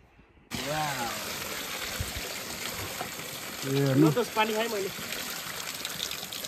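Steady broadband rushing of flowing water in Lwang Village near Pokhara, Nepal, runs throughout under several people talking nearby, with a louder burst of voices around the middle.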